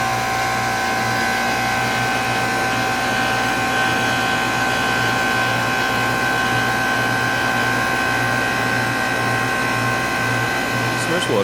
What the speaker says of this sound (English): Now you can go and put your machine in auto and make some ice cream.